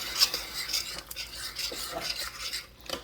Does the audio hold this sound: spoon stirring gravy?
yes